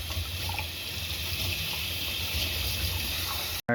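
Water runs steadily from a tap while a plastic tarantula enclosure is rinsed out, a continuous close splashing wash that cuts off abruptly at the very end.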